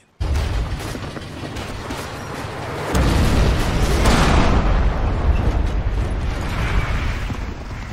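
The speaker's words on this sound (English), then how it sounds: "The artillery is king in this game. The moment you hear this sound, you hide." Heavy artillery explosion in the WW2 video game Forgotten Hope 2, a loud continuous roaring boom with deep low rumble that swells and grows fuller midway, sustained rolling blast noise throughout.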